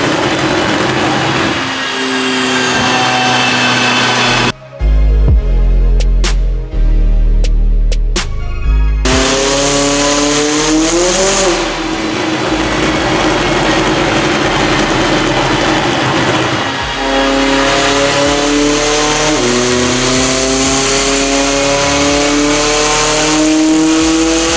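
A 2020 Toyota Supra fitted with a bigger turbo revving hard on a dyno, engine pitch climbing through repeated loud pulls with sharp drops between them, very close and dominant with no talk.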